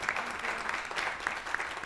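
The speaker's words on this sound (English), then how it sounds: "let's give Dionne, Justice, and Dimitri a round of applause" Audience applause after a conference session on creativity, student work and climate change, steady clapping from a modest crowd, even and moderately distant throughout.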